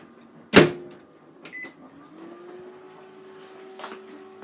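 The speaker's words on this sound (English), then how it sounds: "I can defrost stuff in the microwave now because I own a microwave" A home microwave oven: a sharp loud clunk of the door or button, a couple of short beeps, then the steady rising hum of the oven running, close by with no talk.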